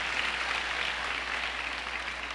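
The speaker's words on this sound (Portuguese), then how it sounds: "Pode aplaudir Jesus." Steady applause from a church congregation, an even wash of many hands clapping at moderate volume with no talk over it.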